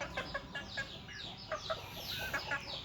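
Several hens cluck and cackle in short, scattered bursts close by, over a faint background hiss.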